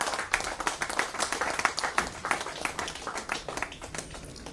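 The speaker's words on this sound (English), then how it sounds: "Keep clapping." A business conclave audience claps in dense, steady applause for several seconds, many hands overlapping into a continuous crackle.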